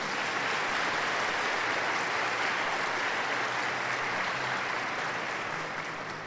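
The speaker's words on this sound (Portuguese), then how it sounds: "com a salva de palmas também." A congregation at a Catholic Sunday Mass applauds to welcome the priest, a broad, continuous roll of many hands clapping that stays loud and even for several seconds before easing slightly.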